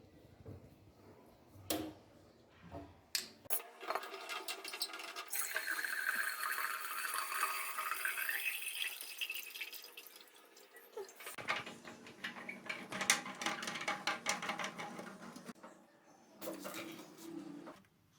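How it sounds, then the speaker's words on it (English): Water runs from the tap of an RO water purifier, a steady splashing stream for several seconds amid clinks and handling noises. "Drain the water from the tap installed in the machine."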